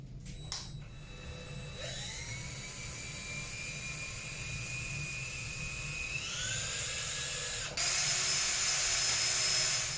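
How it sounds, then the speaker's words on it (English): Power drill with a dull bit boring into a Yamaha Nytro snowmobile during a Powermadd Sentinel handguard install, a steady high whine that climbs in pitch twice and then shifts to a harsher, louder grind near the end. "Apparently this drill bit is dull"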